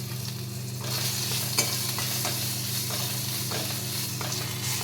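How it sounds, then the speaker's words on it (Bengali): Green chillies fry in hot oil left over from frying hilsa fish, making a continuous close sizzle with light scraping and stirring sounds throughout and no talking. "এবার এই তেলের মধ্যে আমি একটু লঙ্কাকে ভেজে নিচ্ছি"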